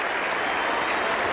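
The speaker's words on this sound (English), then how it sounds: "And even the bowler is clapping" A cricket crowd applauds a batsman's century at an Ashes Test in 1985, a brief burst of dense, sustained clapping filling the ground.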